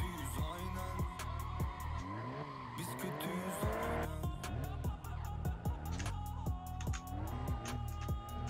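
Tires squeal and skid repeatedly in the Assetto Corsa racing game over a droning engine, with sustained screeching slides and engine revs throughout, and music playing underneath.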